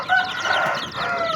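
Aseel short-tail chicks chirp in a busy, overlapping chorus of thin high peeps, close and continuous, with no talk.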